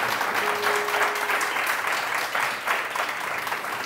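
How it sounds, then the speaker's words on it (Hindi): A studio audience claps on a live television morning show. The applause is steady and moderate, pulsing slightly in waves for several seconds. "तालियां बजाओ ना सही से, ढंग से बजाओ"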